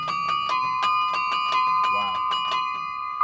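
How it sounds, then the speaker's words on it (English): A bell struck by its clapper at a Celtic winter fair rings with a sustained bright tone under rapid repeated strikes, the rhythmic hits riding over the lingering hum, with a voice briefly heard. "To chime the bell would actually to hit the bell and let the clapper ring off the bell."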